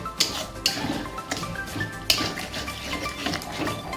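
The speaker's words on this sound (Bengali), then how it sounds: "মাঝে মধ্যে কড়াতে নাড়িয়ে দিতে হবে" A spoon stirring thick spice paste in a kadai, sharp metallic clinks and scrapes against the pan at irregular intervals over a low background sizzle.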